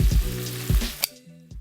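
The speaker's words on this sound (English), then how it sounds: "we just need to allow the heat to cook the ribs and check on them every few minutes" Sweet and spicy pork ribs fry in a pan with a close, steady sizzle, broken by a couple of brief louder bursts and a sharp tap before the sound drops away.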